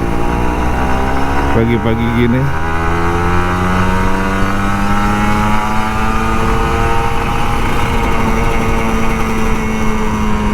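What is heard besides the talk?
Kawasaki Ninja RR 150 motorcycle engine revving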